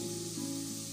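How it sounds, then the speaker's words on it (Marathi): Loud, steady sizzle as water hits a hot pan of frying onion, garlic, coriander and spices, a short continuous hiss with no talking. "आता आपण पाणी घालून घेऊया."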